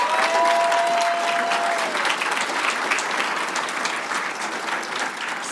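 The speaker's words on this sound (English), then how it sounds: "join me in one more round of applause for all of our School of Health Sciences graduates" Sustained applause from a large crowd at a School of Health Sciences graduation ceremony, dense and steady throughout with a brief tonal whistle early on.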